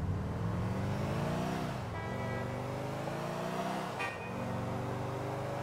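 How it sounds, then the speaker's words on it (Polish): Car horn in Grand Theft Auto IV sounding as a steady held honk over a continuous engine drone, with a brief break and a slight pitch dip near the middle and again near the end, fairly loud and close, with no talking. "Czemu pod G jest klakson, a nie pod fire?"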